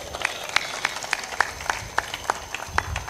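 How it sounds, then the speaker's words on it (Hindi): An audience at a satsang claps in slow, evenly spaced loud claps, about three per second, carrying on steadily with no talk. "जोर से ताली बजा दिया करो।"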